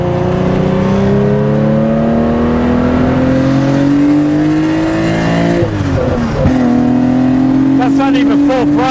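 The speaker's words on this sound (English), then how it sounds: "Love all the backfire, it sounds so cool." A 1972 Porsche 911 T with a 2.8-litre fuel-injected engine revs hard and loud from inside the car, its steady rising drone broken by a throttle lift and a burst of crackling backfire pops near the end.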